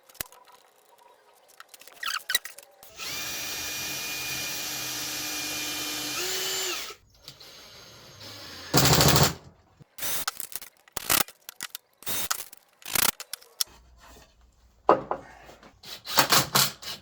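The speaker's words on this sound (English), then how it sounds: "I'll bolt all that together" Power drill driving bolts to join the parts of a ported, tuned car audio speaker box for 6-inch component speakers, a loud steady whir of about three seconds followed by short bursts, clicks and handling noises.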